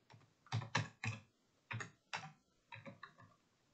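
Computer keyboard typed in a few quick clusters of crisp, close key clicks separated by short pauses, quiet overall with no voices.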